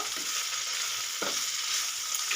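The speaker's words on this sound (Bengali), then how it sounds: "নেড়ে দেব" Bitter gourd slices frying in a pan are stirred, giving a steady sizzle with a couple of scraping strokes.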